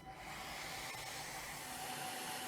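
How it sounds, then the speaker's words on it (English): A hairdryer blows a loud, steady broadband whoosh while heating a supercritical-fluid autoclave, holding constant and close throughout with no voices. "we can heat this with a hairdryer"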